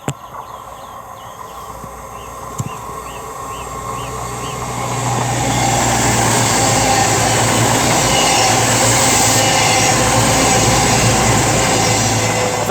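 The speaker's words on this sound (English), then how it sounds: "That's 221129 for CrossCountry on a late running service from Bristol Temple Meads to Manchester Piccadilly." A CrossCountry Class 221 diesel unit, number 221129, passes through Ashchurch for Tewkesbury station, building from a distant rumble into a loud, sustained roar of engines and rolling wheels with faint rhythmic clicks, up close and alone.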